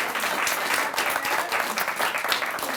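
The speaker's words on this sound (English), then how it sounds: "Come on up so we can applaud all the storytellers." A high school audience at a story slam bursts into steady, dense clapping for the storytellers, the applause continuing evenly without talk over it.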